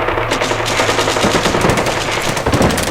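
Rapid, dense artillery and gunfire from the strategy video game Hearts of Iron II, a loud, continuous crackling barrage with no pauses.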